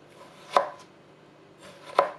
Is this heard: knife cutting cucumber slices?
yes